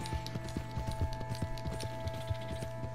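A white Arabian horse gallops in the video game Red Dead Redemption 2, its hooves making a quick, steady run of clip-clop beats over a constant low game hum, with no talk.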